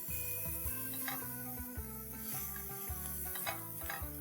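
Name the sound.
capsicum stir frying on high flame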